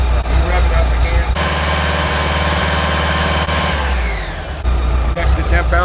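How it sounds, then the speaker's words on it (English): A 1984 Volkswagen Vanagon engine idles, then revs up and holds a raised whine for a few seconds before dropping back to idle, loud and close. "Rev it up again."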